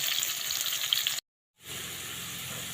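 Thinly sliced onions frying in oil in a pan, a continuous bright hissing sizzle that cuts out briefly and then resumes.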